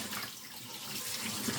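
Tap water runs steadily into a sink as a graphics card cooler is rinsed and shaken clean. A constant broadband splashing rush plays alone at moderate level.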